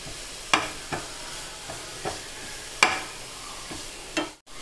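Carrots sautéing in a pan for a Tamil paneer sandwich, a spatula scraping and stirring in several spaced strokes over a faint, steady low sizzle, with no voices.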